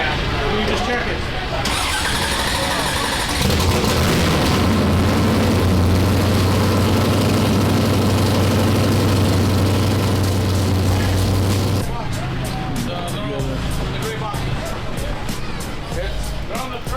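A drift car engine cranks and fires up, then settles into a loud, low, steady idle before the sound shifts to rougher, irregular running.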